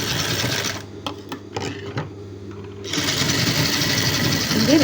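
A sewing machine stitches darts on a blouse, running in bursts with a steady rapid needle chatter, close and loud, pausing briefly mid-way before resuming.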